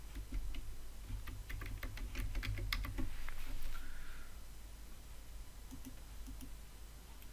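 Login details are typed on a computer keyboard, a run of quick close key clicks in short bursts followed by a few isolated taps, with faint background hum.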